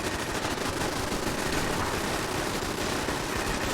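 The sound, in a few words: pipe weapon turrets firing in the Fallout 4 video game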